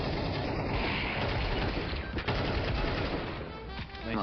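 Loud, dense gunfire in the video game CS:GO, rapid shots packed into a continuous burst that fills the whole moment with little pause.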